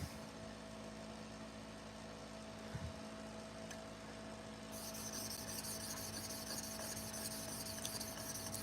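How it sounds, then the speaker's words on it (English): Pet grooming shears, chunkers or texturizers, are sharpened with a steady rasping, rubbing sound, close and continuous, over a low machine hum that brightens partway through. "I'm sharpening pet grooming shears"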